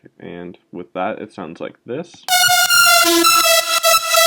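A trap track with a utility plugin widening the stereo image at moments, featuring a loud, bright horn-like synth lead with steady accompaniment that comes in after a short spoken introduction.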